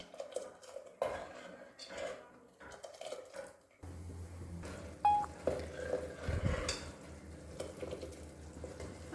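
A utensil clinks and scrapes against a cooking pot as Gujarati wedding-style dal is stirred, with several sharp metallic taps and a brief beep over a low background hum partway through.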